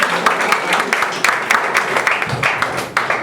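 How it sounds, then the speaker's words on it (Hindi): A church audience applauds at an altar dedication, with steady, dense clapping from many hands filling the room throughout, loud and sustained with no break. "एक मर्तबा फिर जरा ढेर सारी तालियां हो जाएं।"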